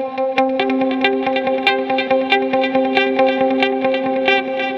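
Electric guitar run through delay and reverb on a Line 6 HX Stomp modeler, playing a steady stream of picked, repeating notes with echoing tails and a sustained ringing drone, clear and fairly loud with no talking.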